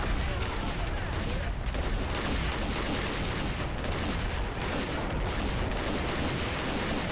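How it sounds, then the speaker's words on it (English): A dense, continuous barrage of artillery fire and gunfire from the Army Men of War game, with booms and rapid shots overlapping without a break and a voice talking underneath. "Call in artillery on coordinates 640215640."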